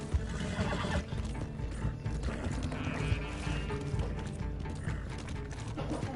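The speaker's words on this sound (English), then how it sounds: "Hey, I need this horse." A horse in a video game whinnies loudly and repeatedly over a steady clip-clop of hooves and clicking, ratchet-like mechanical sounds, with no talking.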